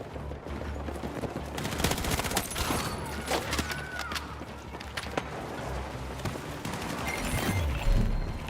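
Rapid gunfire from a recoil-heavy gun in Battlefield 6, sharp cracking bursts of shots in quick succession, some louder and nearer, over a busy battlefield background.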